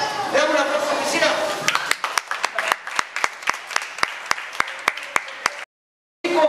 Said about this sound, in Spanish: Le damos una aplauso a Priscila.